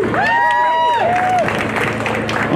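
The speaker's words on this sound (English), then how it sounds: "I want to give them a special round of applause and a thanks" An outdoor crowd at the Broughton Street Christmas lights event in Savannah claps and cheers in a dense, continuous wash of applause, while a voice rises briefly over it at the start.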